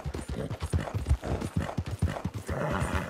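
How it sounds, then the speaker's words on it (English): Horse hooves clip-clop in a steady trotting rhythm in the video game Red Dead Online, close and clear, with no voices over them. "So, that's why I got a new horse now."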